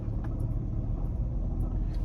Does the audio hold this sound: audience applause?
no